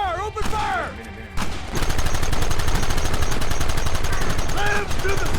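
Rapid gunfire from the Red Dead Redemption video game, a fast, loud volley of shots rattling on for several seconds after a brief lull, with shouted voices and chatter mixed in at the start and end.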